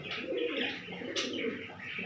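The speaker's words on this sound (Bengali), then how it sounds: "আর সিরা পায়রা আছে, দারুণ সিরা নর, কালো দানা টাইপের" A male Sira pigeon of black-grain type coos steadily close by, its low throaty calls mixed with a few chirps from other birds and no talk.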